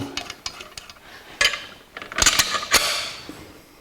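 Bolts going in on an alternator being fitted to a 1984 Jeep CJ7: close, intermittent metallic clicks, ratcheting and clanks in short bursts, with a cluster of sharper knocks near the end.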